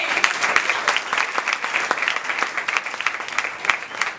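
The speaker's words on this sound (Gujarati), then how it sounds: "તો બધા તાળીઓથી બતાવજો ફોરમને" An audience at a Paryushan Jain Sangh gathering claps steadily for a dance performance, dense and even applause that carries on throughout, fairly close and loud.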